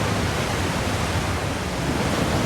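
Waterfall in the video game Forza Horizon, set in Japan in the rain, a dense, steady broadband roar of rushing water filling the whole scene without pauses or speech.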